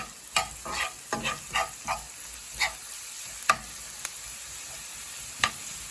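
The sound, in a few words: onion and carrot frying in oil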